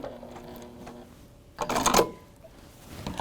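A sewing machine stitches a quilt block seam in a short burst of fast, rhythmic whirring. A louder rattling run follows as it backstitches. The sound is close, with no talk over it.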